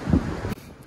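Strong winter wind blows across a snowy Carpathian mountain trail, buffeting the microphone in a loud rushing gust that drops off suddenly to a quieter hiss.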